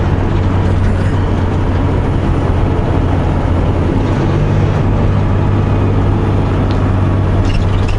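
A heavy truck drives steadily, its engine a loud, continuous low rumble mixed with road and wind noise, and the tone shifts slightly partway through as gears change; no one talks.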